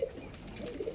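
A pigeon coos softly and close by in a loft, its low cooing faint against steady background hiss.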